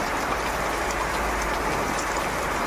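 Heavy rain pours steadily without a break, a dense, even hiss of falling water that stays loud and unchanging throughout.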